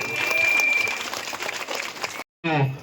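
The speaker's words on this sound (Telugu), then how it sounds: "చప్పట్లు గట్టిగా." Applause from a crowd at a local political gathering, a dense clatter of clapping that stops abruptly in a brief silence before a short burst of louder sound.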